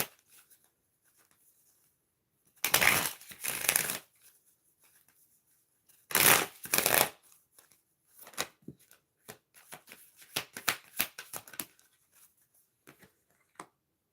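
Cards are shuffled for a card reading: two loud close riffle bursts, then a run of lighter scattered card flicks and taps, with quiet pauses between.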